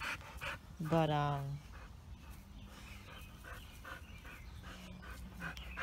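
A Dogo Argentino puppy pants in quick, soft, rhythmic breaths close by during playtime, with a brief whimpering yelp early on and people talking over it.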